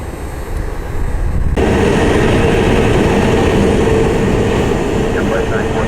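A JetBlue jet airliner roars on takeoff at Cleveland, the engine noise jumping abruptly to a loud, steady rumble mixed with a whining tone.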